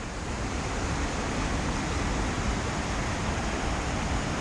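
A steady, dense rush of falling water, loud and constant with no variation, from a tall waterfall in a gorge in the Thung Na Ma mountain valley, Vietnam, heard from nearby.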